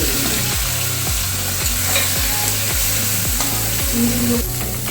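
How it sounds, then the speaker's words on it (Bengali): Turmeric-and-salt-coated prawns frying in a wok make a loud, continuous close sizzle, broken by a regular rhythm of scraping stirs against the pan, with no talking. "দেখুন আমার চিংড়িগুলো ভাজা হয়ে যাচ্ছে"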